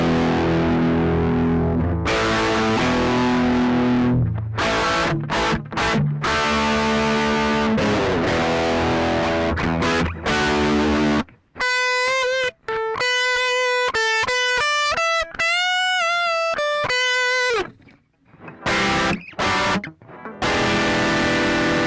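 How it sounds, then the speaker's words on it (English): Electric guitar played through a Marshall MGP9004 preamp with heavy distortion, loud crunchy chords and riffs giving way to sustained, singing lead notes, continuous and close with no talking. "sort of quite a bit of distortion there"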